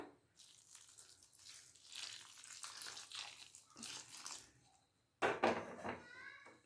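Lukewarm water poured into rice flour for akki rotti dough, heard as a close, soft splashing pour with brief mixing scrapes, followed by a louder burst of pouring near the end.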